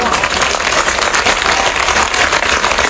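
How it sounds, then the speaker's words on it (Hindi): Dense, loud crowd clapping at a Bhopal election campaign rally for the chief minister, a continuous roar of many hands with no pause across the whole stretch. "जरा जोर से ताली बजा।"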